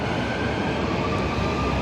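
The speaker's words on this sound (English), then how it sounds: "Off goes the train." A train pulls away from a station platform in a steady, loud rumble with a faint high whine on top. Nobody is talking.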